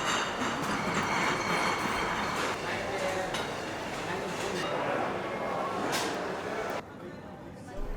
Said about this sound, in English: I took a metro from Marienplatz metro station